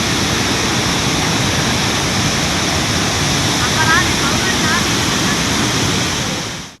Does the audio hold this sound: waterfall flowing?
yes